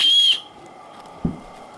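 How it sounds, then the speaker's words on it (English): An emergency whistle built into a day-overnight backpack's strap gives one short, shrill, loud blast that stops abruptly, followed by a soft thump. "the end of this thing is it got an emergency whistle on it."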